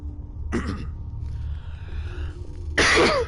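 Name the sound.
cough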